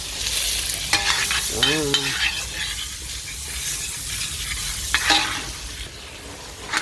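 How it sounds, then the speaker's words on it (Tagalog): Butter sizzles loudly in a pan while being sautéed, a close, bright hiss with stirring scrapes throughout and a brief spoken word near the start. "Gigisa mo butter"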